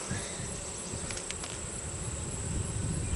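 Honey bees buzz steadily around a hive frame during an inspection, a continuous close hum with a faint high whine running throughout, no voices.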